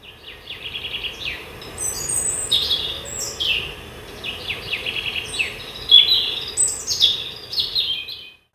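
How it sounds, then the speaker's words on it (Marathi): Small birds chirp and trill repeatedly in a dense, lush forest, bright overlapping calls rising and falling over faint steady background hiss, no voices present. "पक्ष्यांचं कूजन ऐकून त्याचे कान तृप्त झाले"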